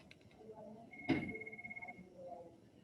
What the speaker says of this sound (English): Hold on, my phone's ringing.